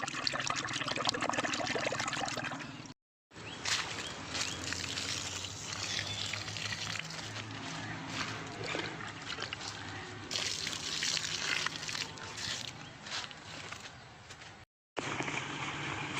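Water pours directly onto grass in a village mango orchard, a steady splashing trickle that runs almost continuously with two brief breaks, fairly close.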